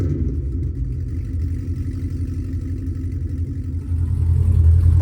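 Supercharged Cadillac CTS-V V8 with Kong X-Port and long tube headers, warm from a recent run. It idles with a loud, deep, lumpy rumble close by, then the engine note swells louder near the end. No one talks.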